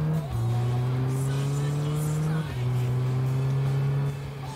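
A car drives in the game Big Ambitions on its way to a Manhattan luxury car dealer: a steady, close engine drone that climbs in pitch, drops at two gear shifts, then climbs again, loud and continuous throughout.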